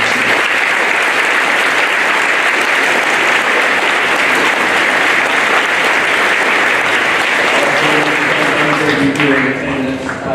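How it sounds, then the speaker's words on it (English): A loud, dense round of applause from a crowd honoring students at a middle school veterans program, sustained for about nine seconds before tapering off as a voice begins speaking at the end. "You deserve a round of applause for raising this."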